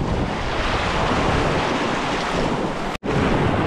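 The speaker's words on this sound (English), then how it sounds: "Get out past these waves." Surf breaking and washing onto the shore at Laxey on the Isle of Man, a steady loud roar with wind buffeting the microphone, briefly cutting out near the end before resuming.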